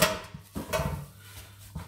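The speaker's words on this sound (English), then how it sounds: "This is just an old roasting pan here." An old metal roasting pan is handled in a kitchen, giving a few close, clanking knocks and scrapes at irregular intervals, moderately loud, with no talk over it.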